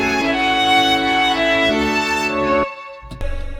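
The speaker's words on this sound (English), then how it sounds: "I end up using a couple of violin virtual plugins." Several layered virtual violin plugin parts play a sustained string passage together, bright and close. They cut off sharply near the end before a brief resumption.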